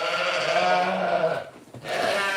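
Sheep on a farm bleat in a steady, wavering cry close by that fills most of the moment, breaking off briefly before another call starts up.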